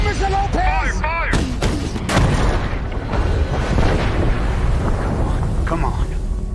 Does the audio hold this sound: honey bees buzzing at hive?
no